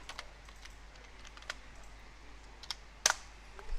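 A computer keyboard is typed on in sparse, light key taps over a quiet room hiss, with one sharper click near the end and no talking.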